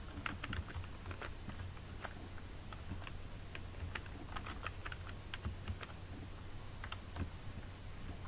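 Steady typing on a computer keyboard while entering HTML code, with quiet, close, irregular key clicks running throughout and no speech.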